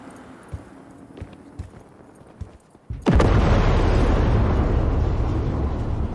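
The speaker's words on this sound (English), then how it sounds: "She's burning! Quick, before she blows!" A burning vehicle explodes in Cyberpunk 2077 with one sudden, loud blast that rolls into a long, roaring rumble after a stretch of quieter clip-clopping and soft thumps.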